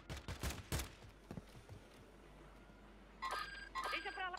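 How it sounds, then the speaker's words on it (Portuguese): Call of Duty gunfire comes in rapid bursts of shots during the first two seconds, followed by quieter stretches and electronic beeping tones from the game. "Estão atirando lá do contra também."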